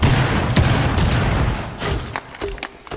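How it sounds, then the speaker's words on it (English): Cluster grenades go off in the video game Rainbow Six Siege. Several sharp, loud booms and cracks land close together, then fade into scattered smaller bangs. "Oh god, cluster grenade!"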